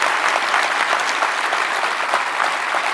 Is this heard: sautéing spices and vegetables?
no